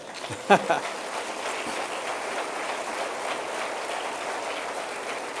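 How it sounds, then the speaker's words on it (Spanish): A church congregation breaks into applause during a sermon, a steady, moderately loud patter of many hands spread evenly throughout, with a couple of sharper knocks near the start. "denle un aplauso"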